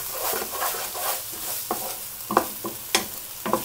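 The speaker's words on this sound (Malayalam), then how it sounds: "ഇതെല്ലാം കൂടി ഒന്ന് നന്നായിട്ട് മിക്സ് ചെയ്തെടുക്കുക സോസ് എല്ലാം നന്നായിട്ടൊന്ന് മൂത്ത് വരണം" Gobi Manchurian sauce sizzles loudly in a hot pan as it is stirred, with a constant frying hiss broken by several sharp scraping strokes of the spoon.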